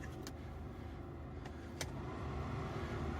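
The heater fan of a VAZ 2114 car runs at its first speed in a cold garage, giving off a steady, quiet airy whir with a couple of faint clicks. There is no talking over it.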